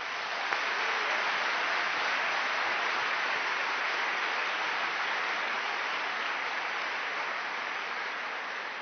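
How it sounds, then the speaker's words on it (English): Audience applause for artists at an arts advocacy lecture, a continuous even wash of clapping that stays steady throughout, fairly distant and with no speech. "A round of applause for the artists who showed up."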